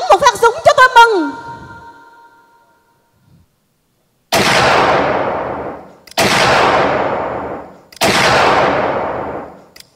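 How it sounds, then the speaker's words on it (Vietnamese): Three loud gunshots with long decaying reports, spaced about two seconds apart, fired in a dramatized Vietnamese wartime radio story, following a brief burst of musical sound and a quiet gap. "Nếu còn thì hãy bắn một phát súng cho tôi mừng"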